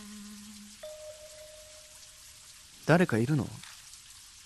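In a PS Vita horror adventure game, a shower runs behind a frosted glass door as a steady, soft hiss of falling water beneath a sustained musical tone, with a short spoken line near the end.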